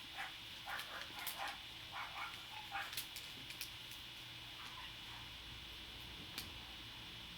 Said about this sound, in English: I'm sorry about my neighbor's dogs, you guys. I don't have any control over them.